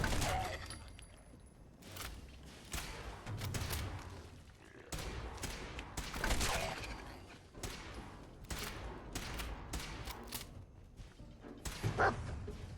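Gunfire in Fallout 4 pops in scattered bursts and single shots at varying distances, mixed with game ambience and clattering effects throughout.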